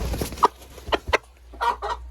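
A hen, a mixed-breed laying chicken, gives several short clucks while being carried, close and loud with brief pauses between the calls.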